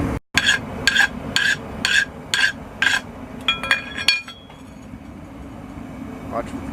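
A forged cold chisel plunged into quenching oil gives a series of sharp, evenly spaced bubbling bursts, followed by a quieter hiss and crackle that fades into a low, steady background.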